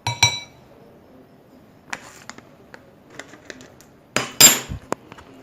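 A spoon clinks against a bowl while marinated chicken is stirred with Radhuni ready mix, sparse sharp metallic taps and scrapes in short bursts separated by quiet gaps, close by with no talking.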